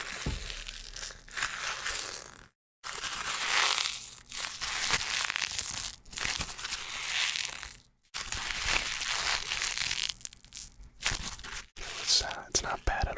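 White paper being crumpled and squeezed into a small ball in a quiet ASMR setting, loud close crinkling and crunching in repeated bursts separated by brief silences, with soft whispering in between.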